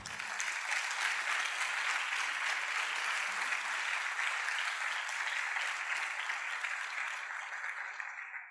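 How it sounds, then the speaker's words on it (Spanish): A church congregation applauding together, a dense sustained wash of clapping from many hands in a hall, steady and full before tapering off slightly at the end. "dele un aplauso al Señor"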